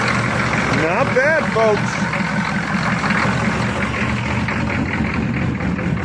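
A diesel-swapped Monte Carlo idles in the cold, a steady low rumbling chug throughout, close and constant, with someone speaking briefly over it.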